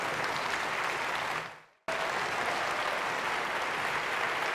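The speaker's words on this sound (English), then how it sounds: "Please stand up and applaud the local organized committee if you really enjoyed this meeting." Audience applause at a conference closing ceremony in Kyoto: dense, steady clapping from a large crowd that briefly fades out, cuts to silence, then resumes at full strength.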